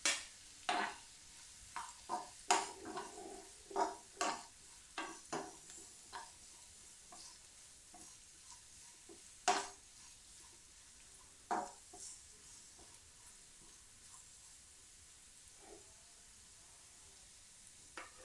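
Vegetables including carrots and beans stir-frying in a pan for veg fried rice, with a steady sizzle under repeated scrapes and knocks of a spatula that come at an irregular rhythm and thin out toward the end.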